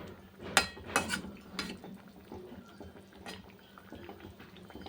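Fish curry bubbling in a pot on the stove, soft gurgles and pops with a few louder clinks of utensil against metal near the start, then quieter simmering throughout.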